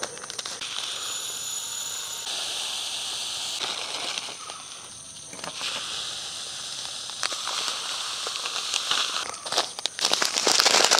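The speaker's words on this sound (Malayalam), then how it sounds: "അപ്പോൾ ഇനി നമ്മളിതിലേക്ക് 1 കിലോ കടുക് നമ്മളിതിലേക്ക് പൊട്ടിച്ചിടാൻ പോവാണ്." A kilogram of mustard seeds pours steadily into a vessel with a continuous dry rattling hiss and crackle. The texture shifts and swells in places, and the sound is close, with no talking.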